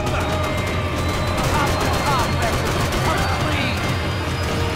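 Gunfire in the Max Payne 3 video game, a dense continuous barrage of shots under loud game noise with someone talking over it throughout.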